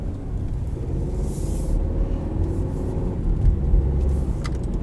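A 2016 Volvo S60 T5 sedan rolls along with a low, steady engine and road rumble heard from inside the cabin, loud and continuous, without voices.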